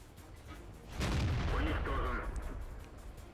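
A tank cannon shot in World of Tanks, fired by a KV-1, lands as one loud booming blast that swells and rings out over a second or two, with someone talking around it.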